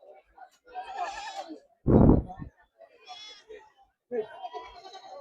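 Goats bleat among a crowd at the Peth Vadgaon goat market, with one loud, close bleat standing out amid overlapping voices and other animal cries.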